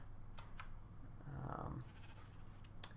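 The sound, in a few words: sheep bleating in a video game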